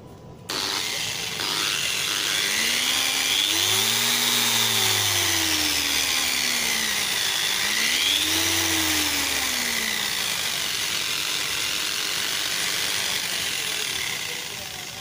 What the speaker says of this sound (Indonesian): Kita gunakan kecepatan sedang dengan menggunakan alat poles.